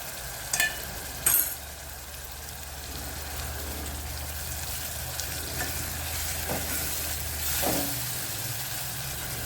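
Ground green chilli paste with garlic, asafoetida and turmeric sizzles steadily in hot oil, with a couple of sharp utensil clinks early on and soft stirring over the constant frying.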